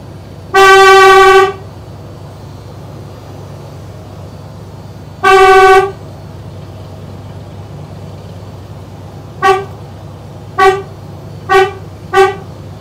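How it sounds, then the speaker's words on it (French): Loud horn blasts sound nearby: two long toots spaced apart, then four short quick honks in a row over a low steady hum. "On a un klaxon de train."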